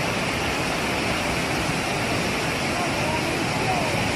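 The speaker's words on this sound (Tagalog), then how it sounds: "Talagang rinig na rinig natin yung ingay nitong tubig na ito pag tumatama doon sa pinaka-poste nitong tulay." Swollen floodwater from a typhoon rushing hard against a bridge post at an overflowing floodway in Pasig, a loud, steady, unbroken roar of churning water.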